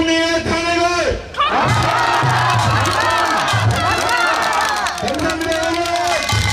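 A crowd at a rally against the impeachment of President Yoon Suk Yeol in Gimcheon loudly chants and shouts in unison. The roar is dense, steady and sustained, with layered voices and rising and falling chant tones.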